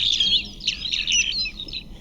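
Synthesized bird chirps and tweets improvised on a mobile phone app, a rapid run of bright warbling calls that rise and fall continuously for about two seconds, close and fairly loud, with no talk.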